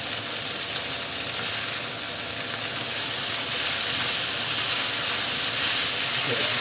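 Vegan Thai green pad Thai sizzling in a pan as it is stirred, a steady, loud frying hiss that builds slightly toward the end, with faint scraping beneath.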